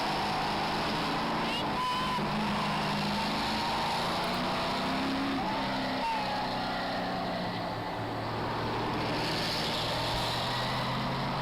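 Race car engines roar steadily on an oval track as the field gets up to speed, with other cars running close ahead, a constant loud drone throughout.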